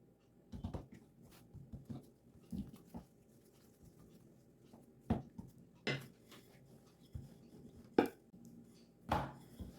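Roti dough for Guyanese oil roti being rolled out with a rolling pin on a floured surface, quiet irregular knocks and thumps of the pin with soft rolling sounds between them.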